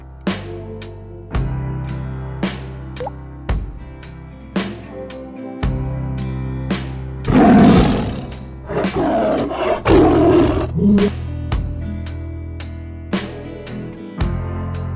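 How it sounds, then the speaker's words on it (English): A tiger lets out deep, loud roars in a couple of long bursts midway, set over a steady rhythmic musical backing with regular percussive beats. "Tiger."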